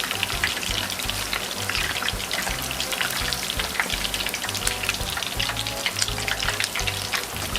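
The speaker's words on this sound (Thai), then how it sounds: "ในวิธีนี้นะคะ ก็จะทำให้หมูไม่อุ้มน้ำมันนะคะ แล้วก็ฉ่า มากๆเลยนะคะ" Keto pork balls fry in hot oil with garlic and pepper, giving a steady, loud, even sizzle with dense crackling that carries on throughout without any talk.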